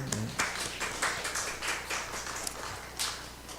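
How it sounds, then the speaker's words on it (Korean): Scattered applause from elementary school children at a church Sunday service, a light patter of many hands clapping unevenly throughout. "우리 초등학생들 박수"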